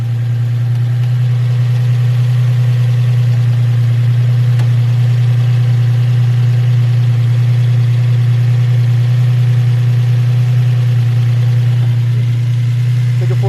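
A freshly repaired Nissan 350Z engine idles with a loud, steady low drone close to the listener. It runs unbroken and even, without revving, for the whole stretch.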